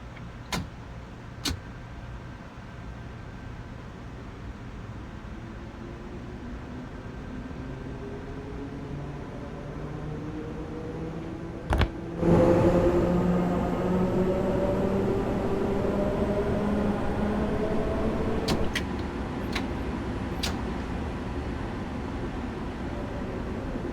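An M3A commuter train in Train Sim World 4 pulls away at notch 2, its motor whine rising steadily in pitch under a rumbling hum, with a sharp clunk midway as the sound swells louder.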